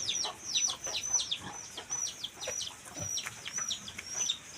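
A brooding hen clucks in repeated short, sharp bursts at close range alongside other fowl calls, a steady busy stream of agitated chicken sounds with no talking.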